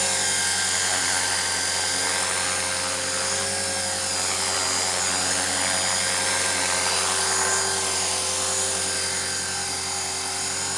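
RC CCPM helicopter hovering, a steady high-pitched electric whine with rotor buzz that stays constant and loud the whole time, close by.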